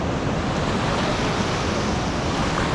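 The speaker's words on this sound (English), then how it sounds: "we're whitewater rafting in Ecuador" Whitewater river rapids roar during a rafting trip in Ecuador, a loud, steady rushing wash of water with no voices and no letup.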